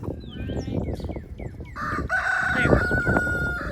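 Chickens on a backyard homestead where turkeys also lay: a rooster crows loudly and close, a long sustained call in the second half, with scattered clucks and chirps before it and a few faint words nearby.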